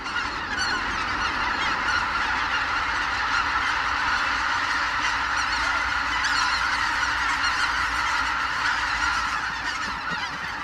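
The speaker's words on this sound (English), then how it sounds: "White-fronted geese, swans and ducks seek out the few northern lakes that will not completely freeze over." A large flock of white-fronted geese, winter arrivals from Arctic Asia on a northern lake that stays unfrozen, keeps up a dense, continuous honking chorus, loud and unbroken with no talking.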